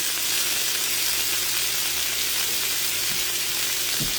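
Sweet onions and potatoes frying in a pan for fried taters give off a steady, dense sizzle that stays loud and even from start to finish, heard up close with no talking.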